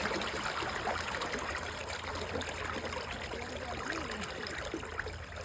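Sewage water gushes steadily out of a freshly unclogged drain line, a continuous close splashing rush with no breaks.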